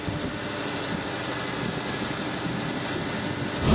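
A car engine warming up before a cylinder compression test gives a steady, dense, unbroken roar that stays loud and constant throughout, with a slight swell at the very end and no talking.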